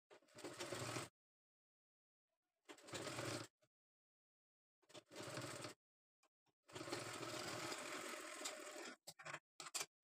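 A sewing machine stitches fabric for a small Laddu Gopal dress in several short bursts of rapid mechanical whirring separated by silent pauses, the longest run near the end, close and fairly quiet.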